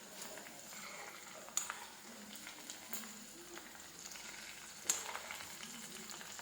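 Quiet sizzling of food frying in coconut oil, a soft crackling hiss with a few sharp pops spaced across the clip.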